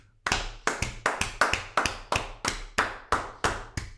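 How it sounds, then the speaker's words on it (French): A single person claps hands about eleven times at a fairly even, unhurried pace. Each clap is sharp and close, with short quiet gaps between them and no talk. "J'applaudis ici"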